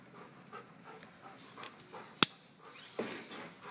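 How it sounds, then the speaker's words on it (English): A small, partly blind dog lets out one sharp, brief squeal near a wheelchair indoors, followed by a fainter yelp, against a quiet room background. "That dog you heard squeal was my little dog Spaz here."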